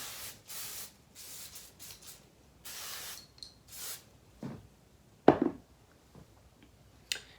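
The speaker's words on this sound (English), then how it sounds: "And spray some oil sheen on it." Several short hissing bursts from a spray bottle of oil sheen sprayed onto thick 4C hair in a bun, one after another, followed by a few soft taps and rubbing sounds.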